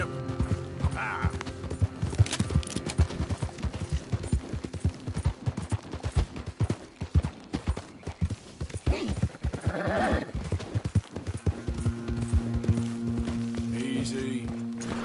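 Horse hooves galloping in the video game Red Dead Redemption 2, a fast steady clip-clop beat close by with mechanical creaks and occasional whinnies, under some talk.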